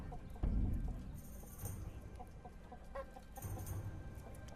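Chicken clucks from the video game Bladesong, short bursts of fowl sounds over a busy game soundscape with faint thuds and clip-clop-like steps.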